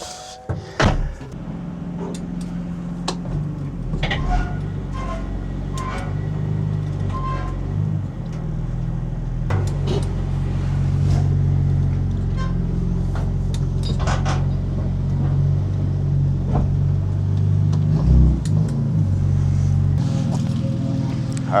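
A BMW M2 sits on a trailer as it is backed off, the engine idling and rumbling steadily for about twenty seconds, with scattered clunks and door-like knocks over it and no talking.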